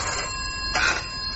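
Telephone ringing in a radio drama, a steady electronic bell tone with a brief brighter burst of ringing partway through, close and clear with no talk over it.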